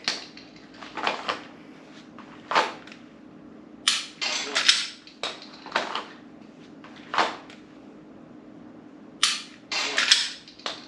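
Sharp clicks of a Mantis laser training pistol trigger during a circle target drill, single and paired snaps spaced by pauses, close and crisp, no talking.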